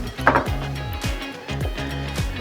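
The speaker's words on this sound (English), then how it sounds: "Mix that in." A utensil stirs salt into pumpkin pasta in a pan. Soft scraping and knocking strokes repeat in a steady back-and-forth rhythm, fairly quiet and close, with a faint hum behind them.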